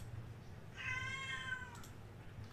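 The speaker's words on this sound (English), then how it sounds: "Sorry, you hear a meow going on there. That's one of my cats." A pet cat gives one drawn-out, rising and falling meow at fairly close range, standing out clearly over a low steady room hum.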